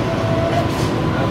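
The Bongaon-Sealdah AC local train runs along the line with a loud, continuous rolling rumble and a faint high metallic whine from the wheels.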